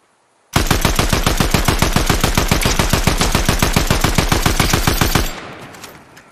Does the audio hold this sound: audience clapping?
no